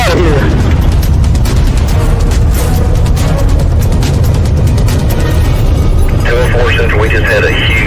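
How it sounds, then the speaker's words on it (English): Secondary explosions keep going off at a massive fire, dull booms and bursts rumbling loudly and continuously, with a voice and radio-style talk over the din. "There's still secondary explosions going on."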